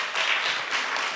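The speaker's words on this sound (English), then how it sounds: "Give yourselves a round of applause." A short round of applause from an audience of youth leaders, brief and fairly close, a dense patter of clapping with no talk over it.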